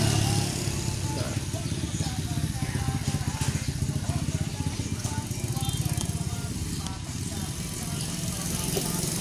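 A motorcycle on a road ride, its engine giving a steady close drone with a fast pulsing beat throughout, with wind and road noise mixed in.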